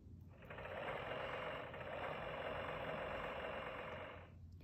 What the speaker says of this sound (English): But here comes Tide, the tractor driver, with a much noisier one